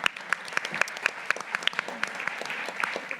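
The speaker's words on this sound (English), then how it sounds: "give Lawrence an applause." Scattered hand claps from an audience at a corporate breakfast event welcoming a new executive, a steady, moderately close patter of individual claps that continues throughout without voices.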